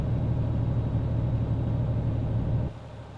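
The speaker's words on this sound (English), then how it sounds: "The engine brake on this thing is even bad." A Renault Magnum truck in Euro Truck Simulator 2 runs its engine brake with a loud, steady low rumble that cuts off abruptly near the end, leaving a softer drone.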